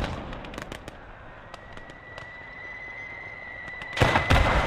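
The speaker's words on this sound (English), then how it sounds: "I'm literally hit by an incendiary." An incendiary Molotov burns in the World War II game Gates of Hell: Ostfront, crackling and popping with scattered sharp snaps over a thin steady tone, then flaring into a louder burst near the end.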